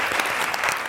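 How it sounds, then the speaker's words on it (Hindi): Studio audience applause on a Ramzan special television transmission, a dense, steady wash of many hands clapping at close range, filling the whole short moment without pause. "तालियां।"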